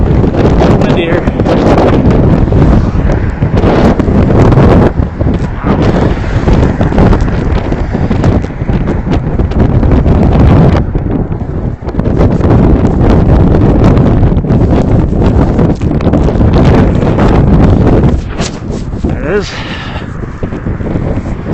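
Strong wind buffets the microphone in loud, continuous gusts that roar and rumble, with a brief lull partway through.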